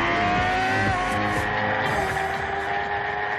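A motorcycle ridden hard on a race track, its engine note loud and continuous with rising and falling revs and a shifting high whine throughout, and no voices.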